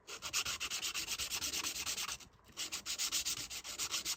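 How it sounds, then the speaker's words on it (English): A piece of wood has its rough end hand-sanded with 600 grit sandpaper in quick, even back-and-forth strokes, a soft rhythmic rasp close up with one brief pause midway. "We just need to gently polish the rough end on here. I'm using a 600 grit."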